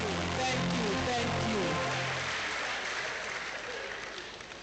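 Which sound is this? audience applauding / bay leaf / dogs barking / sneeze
audience applauding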